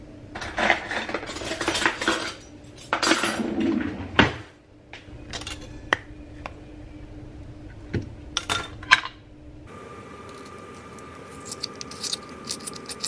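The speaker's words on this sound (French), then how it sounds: "Je vais préparer mon assiette et je vous montre ça tout de suite." Dishes and cutlery clink and scrape close by as a plate is prepared with fish achards and cherry tomatoes, in bursts of clatter followed by sparse taps and knocks.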